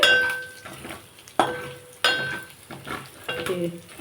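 Tempering spices frying in oil in a pan while making a potato fry, heard as crackling sizzle with several sharp clinks and stirring scrapes of utensils against the pan, close and fairly loud.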